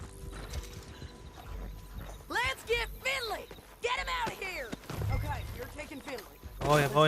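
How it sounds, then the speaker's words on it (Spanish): Hoofbeats of a horse approaching in Red Dead Redemption 2 clip-clop under game sounds, with a brief whinny, while someone talks over much of it. "Igual ahí viene mi caballo."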